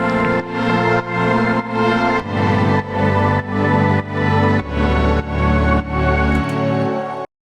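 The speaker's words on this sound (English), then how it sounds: "All it is basically a sawtooth, and I've just reduced the top end a little bit with a filter" Sawtooth synth patch in Vital, filtered to soften the top end and run through effects, playing a drifting arpeggio of repeated sustained chords in a steady pulsing rhythm, loud and alone.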